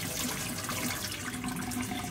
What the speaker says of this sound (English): I'm going to pour this water out